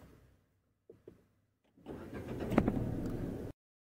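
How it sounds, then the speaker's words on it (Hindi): A Renault Triber car engine starts with a short crank, catches, and settles into a steady, fairly loud idle that runs for about a second and a half before cutting off, with a few soft clicks before the start. "तो चलिए स्टार्ट करते हैं अपन कार को सबसे पहले"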